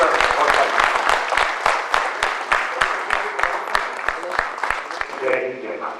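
Audience at a televised Hindi programme claps together in a steady, rhythmic beat, individual hand claps distinct and regular, with someone speaking over the applause.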